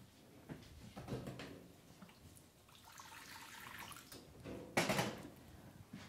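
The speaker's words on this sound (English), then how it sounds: "The heat goes on high under the wok, and I put a puddle of water in there." Water is poured into a wok over high heat, heard as faint, hissing splashes and gurgles, with a louder sizzling burst near the end.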